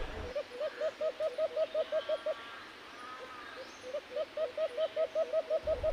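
An alpas bird calls during a hunt outdoors with steady, rapid hooting notes in two long runs split by a short pause. The calls are fairly close, and a faint hum and background noise sit beneath them.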